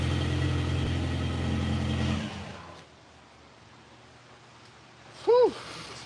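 Volkswagen engine on a brand-new, untuned carburetor runs steadily with a loud, even drone for about two seconds, then cuts off, leaving quiet room noise and a brief tonal squeak near the end.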